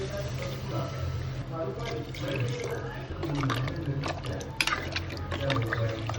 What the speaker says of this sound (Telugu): మూడు గ్లాసులో వాటర్ వేసుకున్నాను.